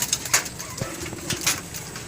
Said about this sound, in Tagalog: Parang wild pigeon eh.